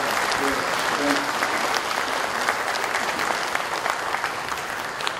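Audience at a Korean national forum gathering at the Olympic Parktel applauds steadily for several seconds, a dense, even wash of many hands clapping, with a voice briefly audible near the start.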